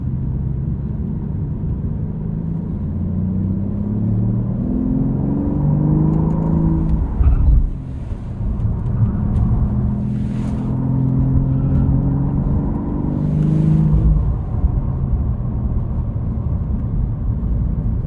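A BMW 760Li in sport mode, its engine droning and rising through revs while cruising, with a couple of sharp exhaust pops cutting through the steady road rumble from inside the cabin.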